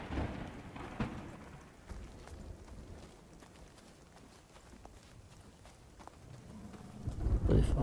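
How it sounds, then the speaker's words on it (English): Steady rain patters throughout in the video game The Cycle Frontier, on the Bright Sands map, and low rumbles of thunder swell near the start and again at the end. "Might be not too bad that it's raining here."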